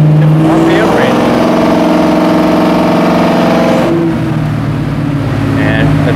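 A car engine fitted with a FiTech throttle-body fuel injection system runs on a dyno during tuning, holding a steady, loud mid-range drone before the revs drop and it settles lower.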